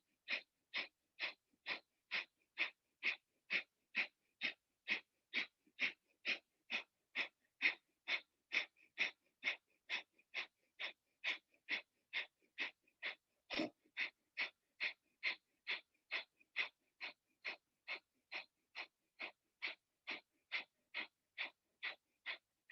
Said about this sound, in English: Through your nose, breathe in just about halfway. Kapalabhati, begin to exhale,